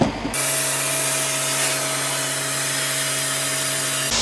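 Air hisses steadily from a split valve on a bicycle inner tube, a continuous close-up rush with a faint tonal whine that stops abruptly after about four seconds.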